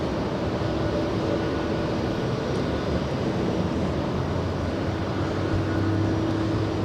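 A United Airlines airliner at Los Angeles International Airport makes a loud, continuous jet roar that holds steady with a faint whine on top and no voices.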